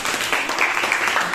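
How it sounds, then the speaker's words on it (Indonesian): Classroom applause from students after a morning lesson, a brief burst of steady clapping filling the moment without voices. "Tepuk tangan"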